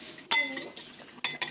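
A utensil clinks and scrapes against a bowl as a child mixes seasoned eggs for scrambling, loud and close, in a few quick bursts with short gaps.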